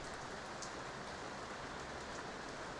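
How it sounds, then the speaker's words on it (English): Light rain falling in a soft, continuous hiss, faint and even for the whole stretch with no talking. "it's raining a bit, right?"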